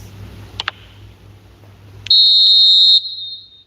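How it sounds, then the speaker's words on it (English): A referee's whistle in the eFootball video game blows for half-time: one sustained, shrill blast of about a second that trails off, following two short chirps and crowd murmur. "Referee's had a look, and he's blown his whistle for half-time."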